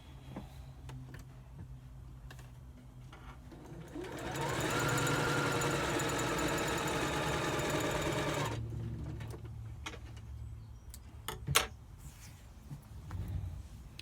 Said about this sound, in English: we line it up with the top and the side, and we sew it, making sure our seam goes upwards